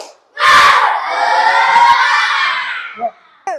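A group of children give a loud, bright collective shout in a spirit clap cheer. The burst rings out together, holds for about two seconds and then fades, with a short voice afterward.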